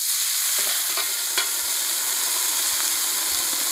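Seafood sizzles and steams steadily in a hot frying pan with added water, a bright continuous hiss with a few soft pops and clinks, close and without talk.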